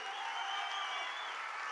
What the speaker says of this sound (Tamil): ஒரு அரங்கம் நிறைந்த மாபெரும் கைத்தட்டலுக்கு நடுவே